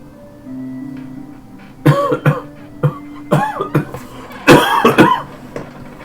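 Repeated harsh coughs come in uneven bursts, several close together, loud and close, with a faint hum underneath.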